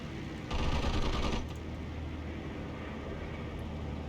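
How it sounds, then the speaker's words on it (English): Rapid machine-gun fire from retreating units in the World War II strategy game Steel Division II, a dense burst of shots over a constant battle rumble, followed by continuing background din. "They can still shoot even if they're retreating."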